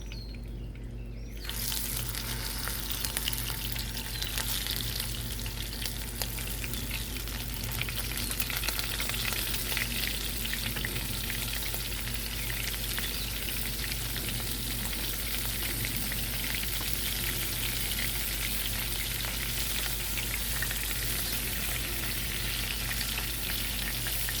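Shrimp with garlic for Hawaiian garlic shrimp fry in a pan, a loud sizzle starting abruptly and holding steady and dense for the whole stretch, close up with no talking.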